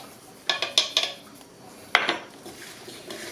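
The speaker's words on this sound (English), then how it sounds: "mix it again a little bit, and then put it inside" Fruit stuffing for a rotisserie duck is mixed in a bowl, with a quick run of bright clinks and taps from a utensil against the dish, a pause, then a few more close knocks.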